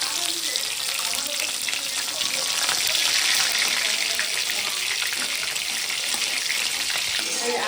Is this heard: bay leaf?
yes